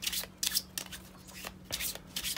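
Strange Lands oracle cards, a slick but not glossy cardstock, riffle and slide together in close, brisk shuffles, the papery swishes rising and falling in quick waves.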